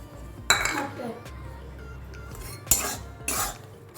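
A spoon scrapes and clinks against a pan while an atta sandesh mixture with sugar is stirred, giving three sharp metallic strikes over a low background hum.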